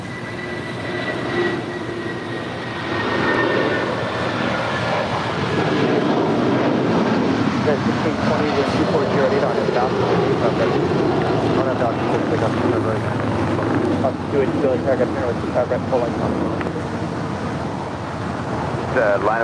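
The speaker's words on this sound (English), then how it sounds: "It's United Airlines Flight 1069 departing to Chicago to" United Airlines Boeing 757-300 jet departing LAX, a steady broad roar of engines building and rolling on at a distance across the whole stretch, with a faint high whine drifting above it.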